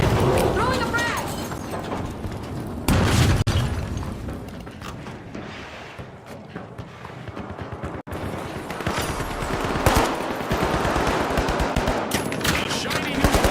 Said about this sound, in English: Here's some cover. Throwing a frag!